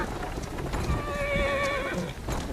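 A horse whinnies once in Assassin's Creed Syndicate, a long wavering neigh over a low rumbling background, fairly close.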